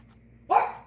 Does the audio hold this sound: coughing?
no